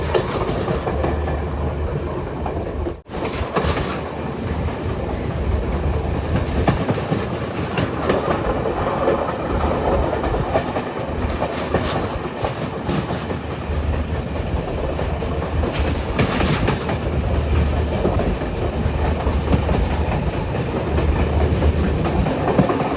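The Galu Kumari Express pulls into Moratuwa station with a loud, continuous rumble and wheel clatter, heard close from aboard and without any voices.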